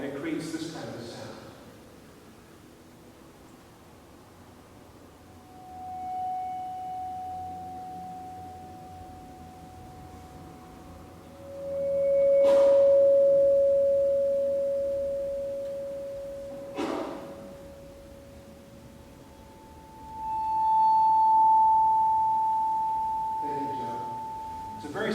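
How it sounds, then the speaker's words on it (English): Vibraphone bars bowed with a violin or bass bow produce faint, sustained pure tones that swell, overlap and fade one after another, with a low murmur of talk in the background. "I have the percussion player actually playing with a violin or a bass bow on the vibraphone, and it creates this kind of a sound."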